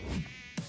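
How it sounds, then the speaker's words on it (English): A mosquito whines with a brief, close, thin buzz in an advertisement for a pest control company. "When mosquitoes show up,"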